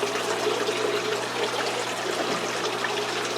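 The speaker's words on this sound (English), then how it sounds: "Just draining a bunch of water out of the tank." Water drains out of a gourami aquarium tank during maintenance, a steady trickling, rushing flow heard close and continuous without pause or talk.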